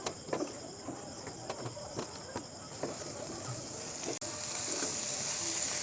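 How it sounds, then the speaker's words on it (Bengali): Eggplant pieces frying and being stirred into spices for an eggplant curry, a steady close sizzle with intermittent scraping stirs, the hiss swelling louder in the second half. "এবার বেগুন দিয়ে আমি এবার ভালো করে মশলার সাথে মিশাবো।"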